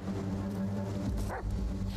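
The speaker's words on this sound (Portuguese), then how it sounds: "Cachorro." A dog barks and yips in a video game, short moderately loud barks with a whimpering tone over a steady background hum.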